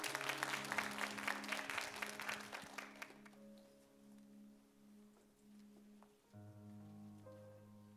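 A church young-adult worship congregation applauds to welcome a speaker to the stage. The clapping is brisk and fades out after about three seconds, leaving soft sustained keyboard tones.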